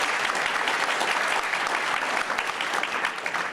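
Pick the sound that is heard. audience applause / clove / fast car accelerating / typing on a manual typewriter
audience applause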